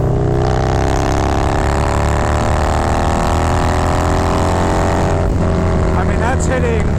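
A Harley-Davidson Milwaukee 8 motorcycle fitted with an aggressive cam cruises in 4th gear on a highway, a steady, loud, deep engine drone with wind rush that climbs slightly in pitch, and a voice briefly talks over it.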